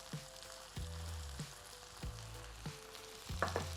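Cabbage charring in a pan with a pinch of salt, giving a faint, continuous sizzle and crackle, broken by several quiet knocks or taps at regular intervals, without any talk.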